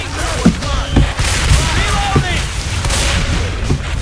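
Gunfire in the video game Left 4 Dead, repeated booming shots roughly every half second over a dense, loud background of game noise and chaotic action.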